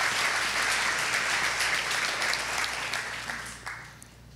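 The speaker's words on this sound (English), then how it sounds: "let's give God a round of applause for that." Audience at a church talk on addiction applauding, a steady roomful of clapping that thins and fades out toward the end.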